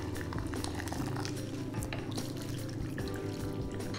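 Boiling water is poured into a cooking pot of stuffed aubergine and courgette, a close, continuous liquid splash and trickle with small drips throughout and no talking.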